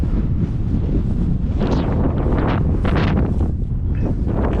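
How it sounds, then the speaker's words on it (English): Strong prairie wind at 25 miles an hour roars steadily over open land in cold 35-degree air, buffeting the microphone with a constant heavy rumble and rising gusts. "It's 35 degrees with 25-mile-an-hour wind right now."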